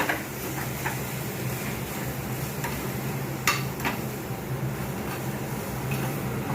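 A spoon stirs spices into a pan of kantola (spiny gourd) curry, giving soft scattered ticks and scrapes over a steady low hum, with no one talking.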